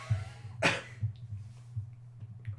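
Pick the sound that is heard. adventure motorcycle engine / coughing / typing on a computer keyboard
coughing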